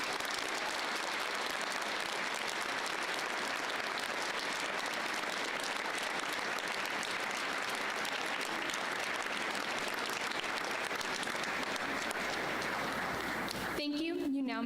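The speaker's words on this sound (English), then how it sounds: "Please join me in recognizing our special guests with a warm round of applause" Sustained applause from a large school assembly audience honoring veterans at a Veterans Day event, steady and dense for about fourteen seconds before fading out into a brief voice.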